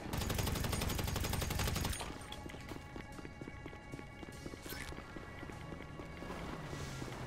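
Gunfire in the GTA Online video game. A dense, rapid stream of shots comes first, cuts off sharply after about two seconds, and is followed by scattered single bangs over background noise.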